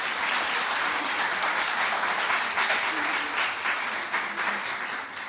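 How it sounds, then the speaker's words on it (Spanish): Conference audience applauds a guest artist, a steady, dense wash of clapping from a large crowd that fills the room for several seconds without pause. "un aplauso para él, por favor"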